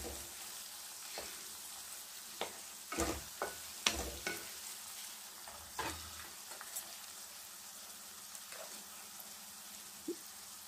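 Tomato, onion and garlic frying in a pan while being stirred, a soft steady sizzle broken by a series of distinct spoon scrapes and clinks, loudest near the start and middle, then quieter sizzling alone.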